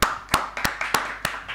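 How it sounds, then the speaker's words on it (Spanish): A studio audience gives a round of applause to welcome a guest, with irregular bursts of clapping at close range, loud and uneven, and no talking over it. "lo vamos a recibir con un fuerte aplauso al señor Matías Lecky"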